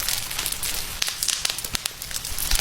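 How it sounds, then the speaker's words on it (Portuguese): Bubble wrap squeezed to stand in for a crackling campfire in Roblox, giving a dense, steady bed of small pops and snaps with sharper cracks scattered throughout, fairly loud and close, with no voices. "Pra fazer o som das fogueiras em Roblox, não gravaram fogo real. Só apertaram um plástico bolha e o som ficou perfeito."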